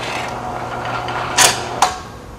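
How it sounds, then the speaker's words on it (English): Wire rope yanked quickly through the brake of a Pocket Climber, giving two short rasping zips over a steady background hum. "Holding the wire rope firmly, pull it out quickly."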